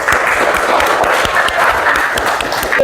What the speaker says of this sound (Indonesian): Mari kita tepuk tangan untuk kawan-kawan kita semua.